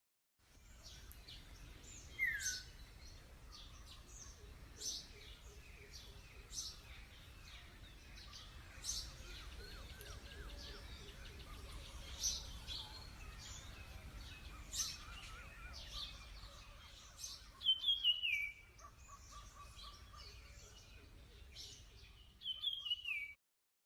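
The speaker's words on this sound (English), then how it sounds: "Even the birds were singing" Birds chirp and sing steadily at Meherabad, a busy outdoor chorus of many short tweets and calls at moderate distance, with a few louder, closer bursts near the end over a low background hum.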